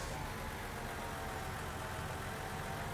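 A farm vehicle engine idles in Farming Simulator 19, a steady, even mechanical drone holding at constant level throughout with no voices over it.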